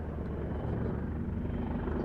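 A helicopter performs a wing over at the RAF Cosford air show, its steady rotor thump and engine drone heard from a moderate distance, constant and without talk.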